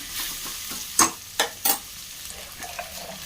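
Potatoes and onions fry in a pan with a faint background sizzle, broken by a few sharp clanks and scrapes of a spoon stirring against the metal, close by with no voices.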